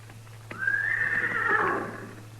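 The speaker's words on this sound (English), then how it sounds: "That's his horse, too." A horse lets out a single long whinny near a burned-out wagon on an old western plain. It starts sharp and high, holds, then trails off over about two seconds, loud and nearby, against a steady low hum.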